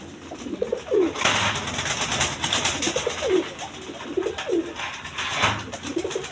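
Pigeons cooing close by, repeated soft throaty coos overlapping in a steady rhythm over faint background noise.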